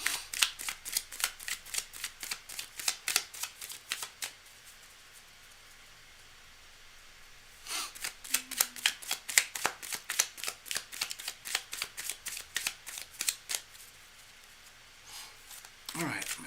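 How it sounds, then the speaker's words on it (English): Playing cards are shuffled at a table during a live card-reading session: repeated quick riffling bursts for about four seconds, a pause, a longer run of riffles, then a brief final shuffle, close and moderately loud. "I'm going to shuffle a little bit more if you don't mind."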